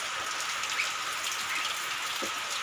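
Steady rain falling at night during a fishing and hunting outing, a dense, even hiss of drops on surfaces with occasional closer patters, continuous and fairly loud with no talking.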